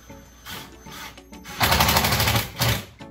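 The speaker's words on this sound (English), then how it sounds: "Just using a simple driver here, and I'm going to go ahead and pop the screw in here from this angle." A driver sets a screw into a Rev-A-Shelf pullout waste bin cabinet: a short rattling buzz of about one second, loud and close, with a brief second spin and a few clunks around it.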